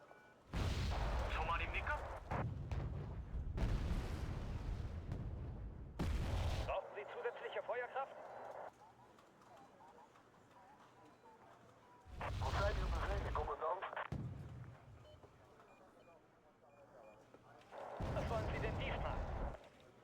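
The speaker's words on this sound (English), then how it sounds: "Get some mortar spam going." Mortar artillery fire in a combat video game, heard as several loud, booming bursts in separate clusters with quieter rumbling gaps between them, near and dominant.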